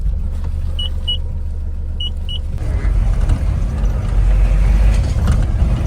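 A new Mahindra Bolero Maxx pickup truck runs nearby with a steady, loud low rumble that swells after a couple of seconds, along with a few faint high electronic chirps early on.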